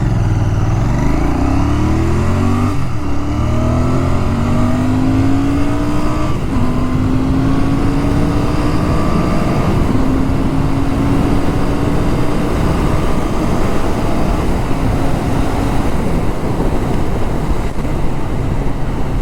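A Royal Enfield Bear 650 motorcycle accelerating hard on an open road, its engine note climbing and dropping with each upshift through the gears, loud and continuous with rushing wind, no talking.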